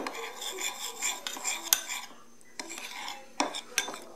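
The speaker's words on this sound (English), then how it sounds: "we're going to mix these dry ingredients together" A spoon stirs and scrapes dry chia pudding ingredients together in a bowl, a steady close clatter of scraping with a few sharper clinks against the side and a brief pause in the middle.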